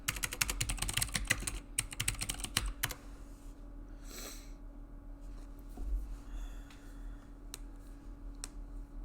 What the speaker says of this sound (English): you type in like children's ministry